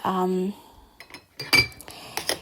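A metal spoon clinks and scrapes against a pot while skimming foam off boiling homemade plum jam, a few sharp close taps after a short hum, with no talk.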